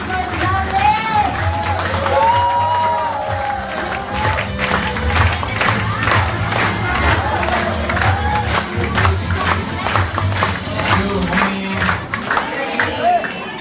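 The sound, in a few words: audience applauding and cheering for a speaker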